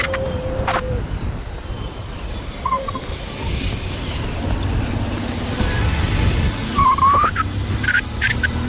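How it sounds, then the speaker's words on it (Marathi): Road traffic in a traffic jam: steady engine rumble and road noise fill the scene, with a few short horn-like tones rising briefly near the end. "ट्रॅफिक जाम आहे."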